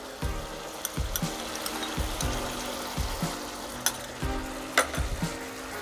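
A splash of bowl-rinsing water goes into sizzling masala for a garlic egg curry, the pan hissing and bubbling as a spoon stirs in rhythmic scraping strokes, close by with no talk.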